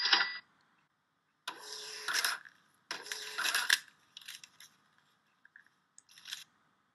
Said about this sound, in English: Now let's test the printer by entering the new tickets.